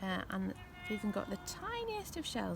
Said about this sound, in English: that's the cat who's come to say hello